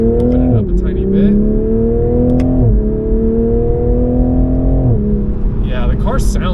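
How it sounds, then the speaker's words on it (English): A turbocharged Toyota Supra accelerating, its loud engine note rising steadily through gears with brief dips at each shift, heard from inside the car and steady throughout. "Yeah, the car sounds great."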